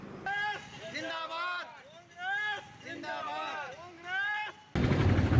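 Voices talk over a noisy background at a political celebration, then a sudden loud burst of dense crackling firecrackers erupts at the very end.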